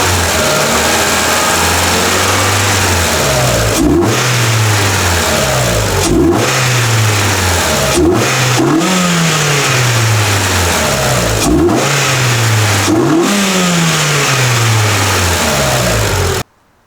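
Modified daily-driver car engine revving close up, six sharp throttle blips each climbing and then falling back to a steady idle, loud and clear with no talking.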